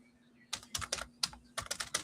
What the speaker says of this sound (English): Here I am typing again.